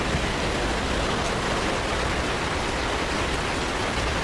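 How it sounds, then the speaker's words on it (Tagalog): Heavy rain pours in a steady, loud, unbroken wash of noise outdoors near a vehicle, with no gaps or voices throughout. "Kaso ang lakas ng ulan."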